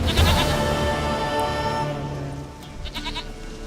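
A goat in The Witcher 3 gives a loud, quavering bleat close by at the start, which fades into faint game ambience with a few soft chimes toward the end.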